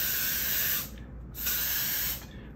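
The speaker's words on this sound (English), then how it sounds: "So with the mouth atomizer, you can create a fine stream." Breath blown through a mouth atomizer sprays pigment as a fine mist, heard as two close bursts of soft airy hissing separated by a short pause.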